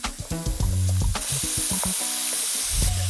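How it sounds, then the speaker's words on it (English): Ground beef for chilli sizzles and fries in a pan, with scraping and stirring sounds from a utensil breaking up the meat over a steady hiss. "I'm going to let that continue to cook now for about another 2 to 3 minutes, just to get some more colour on that meat"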